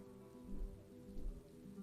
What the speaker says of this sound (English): You can hear the rain on the ceiling and, you know, light thunder on the background.